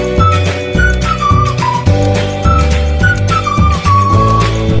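A pressure cooker whistles while beef cooks, a loud, near, sustained hissing whistle with rising and falling pitch bends. Clattering kitchen sounds run through it.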